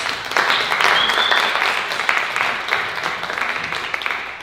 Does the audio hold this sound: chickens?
no